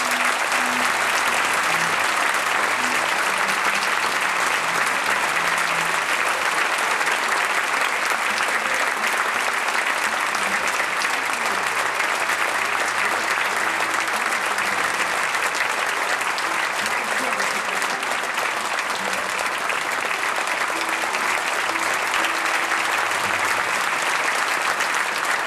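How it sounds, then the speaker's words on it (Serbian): A large audience applauds steadily at a film premiere gala in Sava Centar, a dense, continuous wash of clapping that stays loud and even throughout with no break. "Na kraju, molim vas da aplauzom pozdravimo reditelja filma Put ružama posud, Marko"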